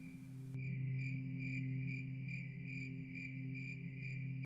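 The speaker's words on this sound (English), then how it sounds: "I heard the owl shriek and the crickets cry." Crickets chirp in a steady pulsing rhythm, a high continuous trill repeating about twice a second, close and clear with a low hum beneath.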